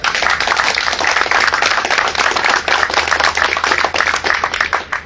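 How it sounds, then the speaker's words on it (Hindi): A crowd applauds loudly and continuously at a Jantar Mantar rally in Delhi, dense clapping from many hands filling the whole stretch without any speech. "हम सब एक बार चलिए जोरदार तालियां उनको देते हैं।"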